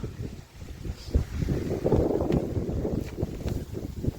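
Low rumbling wind buffets the microphone in uneven gusts, with a few faint higher whooshes, no voices present.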